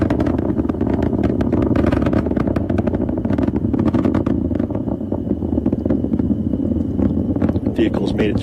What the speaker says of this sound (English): Falcon 9 engines pulling back just a little bit as that max Q milestone passes